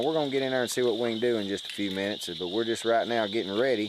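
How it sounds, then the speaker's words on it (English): Frogs call at a pond at night before a frog-gigging outing: a steady, high, continuous chorus runs under someone talking nearby throughout. "You can hear a few frogs in the background."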